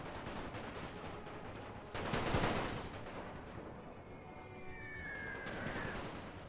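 Scattered battlefield gunfire from a World War I strategy game, with German Empire forces fighting and rifle cavalry nearby, a continuous crackle of rifle and machine-gun fire swelling into a louder burst, with a thin whistling tone later on.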